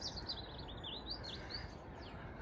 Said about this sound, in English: The birds are beginning to sing,